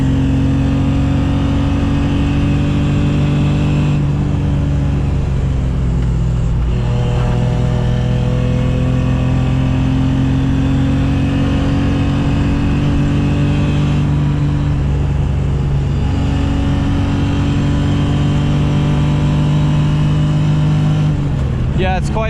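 A BMW E30's engine drones loudly from inside the car while chasing a Corvette ZR1 and Z06 up a mountain touge road, steady revs rising and falling with gear changes, someone talking over the engine noise.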